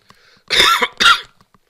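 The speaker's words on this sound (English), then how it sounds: "I've got a little bit of a cough at the moment" Two sharp, loud coughs close to the microphone, one right after the other, with near silence around them.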